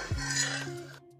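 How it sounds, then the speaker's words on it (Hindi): A metal spoon stirs lotus stem and spices inside a pressure cooker, giving a brief scraping and clinking against the pot over a faint steady hum before the motion stops. "अब इसे भी अच्छे से मिक्स कर लेंगे चम्मच से सारे"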